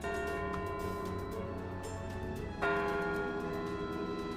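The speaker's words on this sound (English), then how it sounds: "Church bells sounded outside St. Casimir Church in Canton as family and friends surrounded the caskets holding the bodies of 15-year-old Gigi Myrie" A church bell rings outside St. Casimir Church in Canton at a funeral, with a sustained, humming tone, and a fresh strike lands partway through, its resonance lingering in the air.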